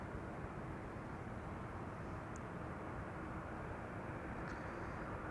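A KLM passenger jet arriving from Vancouver at Schiphol, heard as a steady broad engine roar from a distance, even and unbroken throughout, with a couple of faint chirps above it.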